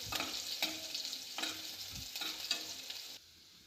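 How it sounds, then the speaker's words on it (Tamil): Chopped onions sauté in hot oil for a cauliflower egg stir-fry, crackling in a dense, close sizzle broken by a few spatula scrapes before dropping away abruptly near the end. "இப்போ அரிஞ்சு வச்சுருக்க வெங்காயத்தை அதில் ஆட் பண்ணி வெங்காயம் நல்லா வதங்கட்டும்."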